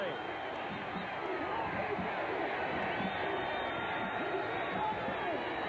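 A packed football stadium crowd of Ole Miss fans on their feet at a 1994 Auburn game, a dense, continuous roar of cheering and shouting that holds steady and loud throughout.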